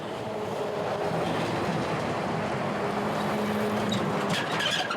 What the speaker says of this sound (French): Les camions passent désormais sur son terrain